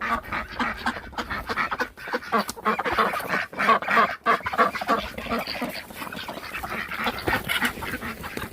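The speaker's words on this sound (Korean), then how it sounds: "낮에는 오리와 닭이 천혜양 농장에서 지냅니다." Ducks and chickens on a cheonhyehyang citrus farm in Jeju keep up a busy mix of quacks and clucks, with repeated calls overlapping close by.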